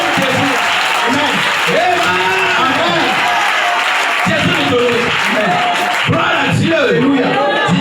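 Congregation at a Sunday church service applauding steadily and cheering, loud and sustained throughout, with voices shouting and singing over the clapping.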